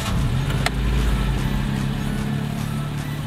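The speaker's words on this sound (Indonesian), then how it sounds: "mobil ini tuh udah pakai push start stop engine. Langsung aja kita nyalain ya," A Ford EcoSport engine fires up with its push start button, a brief crank and catch followed by a steady low idle that rumbles close and even.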